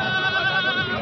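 A male goat (bakra) at a goat market (bakra mandi) gives a close, loud, wavering bleat that lasts the full second, with faint background murmur beneath it.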